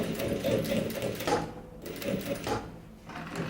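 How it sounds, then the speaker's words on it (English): A sewing machine stitching the bottom seam of a stretchy baby swimsuit, running steadily and close with a dense rapid whirring clatter that dips briefly a couple of times. "I will sew the bottom line here first. I think it will be easier. Sew from the bottom."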